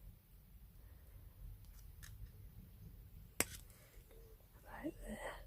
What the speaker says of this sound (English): I'll trim that weaving wire